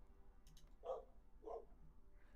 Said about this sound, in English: Barking at nothing again.